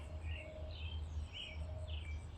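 Birds chirp in a morning neighborhood, brief high tweets repeating several times over a steady low hum of background noise, moderately faint and distant.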